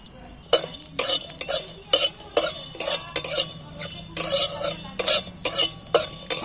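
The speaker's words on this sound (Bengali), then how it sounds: "আমি এখানে কড়া বসিয়ে দিয়েছি, শুকনো খোলা ভেজে নিচ্ছি" Whole cardamom, cloves, cinnamon and coriander seeds dry-roasted in an oil-free wok, heard as rhythmic rattling scrapes of a spatula tossing the spices against the metal, close and crisp, with quiet pauses between strokes and no talking.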